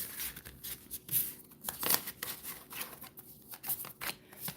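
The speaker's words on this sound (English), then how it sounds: "Let's do a quick shuffle" Tarot cards being shuffled quickly by hand: faint, papery riffles and flicks in irregular bursts, quiet and close, with no talking.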